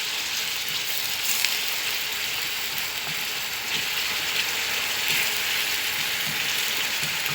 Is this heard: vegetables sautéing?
yes